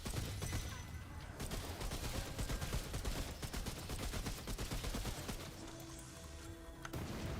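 Rapid, sustained gunfire from a weapon in the video game Remnant, shots rattling in a dense, continuous stream at a fast fire rate, loud and close throughout with no pauses and no talking.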